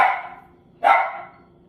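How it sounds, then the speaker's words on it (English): Two loud, close dog barks a little under a second apart, each sharp onset fading quickly, heard alone indoors with no talking. "Sorry, that's my dog."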